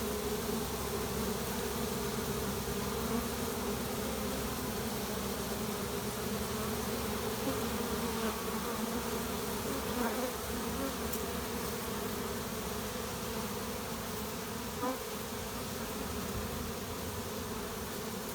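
A dense, steady buzzing of a honeybee swarm fills the air continuously as it is caught, a droning hum with no voices.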